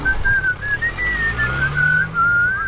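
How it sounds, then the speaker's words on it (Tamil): A steady, wavering whistled tone from a person, held almost continuously for a few seconds over low background rumble. "என்னடா விசில் அடிச்சுட்டா வர?"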